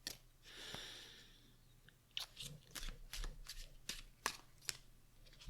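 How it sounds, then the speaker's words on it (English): Tarot cards shuffled by hand during a calm pick-a-card reading, a soft hiss of sliding cards followed by a run of close, crisp slaps and flicks in an irregular rhythm, with quiet breathing and no talk. "So I'm going to shuffle."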